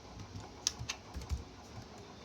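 Typing on a computer keyboard in a chat during an online PostgreSQL DBA interview, a brief burst of light key taps with a couple of sharper clicks, close and quiet with no speech.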